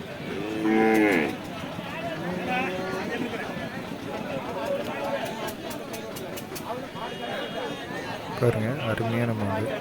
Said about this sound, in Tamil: பாருங்க, அருமையான மாடு.